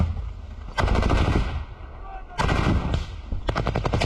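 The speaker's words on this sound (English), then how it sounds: "Dude, that gun ain't no joke right now." Rapid automatic gunfire in a PS5 video game, three loud bursts of closely spaced shots separated by brief lulls, with faint game background noise between them.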